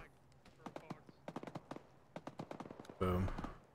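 Gunfire in a military shooter video game, heard as quick irregular bursts of sharp shots with one louder blast near the end.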